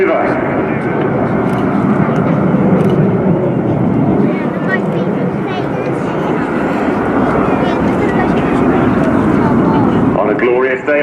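RAF Red Arrows jets flying a display at RIAT 2018, a loud continuous roar of jet engines sweeping overhead, with a commentator talking throughout.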